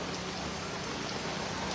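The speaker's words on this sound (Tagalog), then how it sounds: "Umuulan eh." Steady, dense rain falls outdoors during a typhoon, a continuous broadband hiss and patter that stays level for the whole stretch with no voices.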